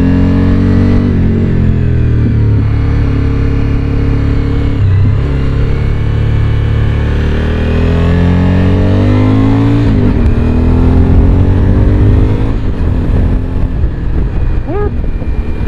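A 2017 Suzuki V-Strom 1000 XT motorcycle with an Akrapovic exhaust accelerates, its loud, steady engine drone sweeping up in pitch again and again through the gears, heard close and continuous.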